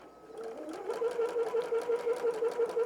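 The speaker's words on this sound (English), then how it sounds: "I'm just going to start back stitch and continue sewing all the way, making sure it's aligned." A sewing machine stitches a seam on a keychain tissue holder, starting with a backstitch and then running steadily in a fast, even rhythm that builds from softer to louder, heard alone up close.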